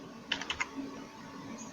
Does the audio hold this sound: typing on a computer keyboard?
yes